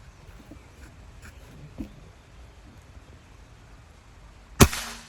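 A single sharp shot from a Goblin Dobel Power Plenum PCP air rifle cracks loudly near the end, after a stretch of quiet outdoor background with a faint click or two earlier.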